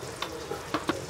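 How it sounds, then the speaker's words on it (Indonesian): Snacks frying in hot oil at a roadside food stall, a steady soft crackle and sizzle broken by a few sharp pops and stirring clatters, fairly quiet and with no talking. "Angkat, sambung goreng."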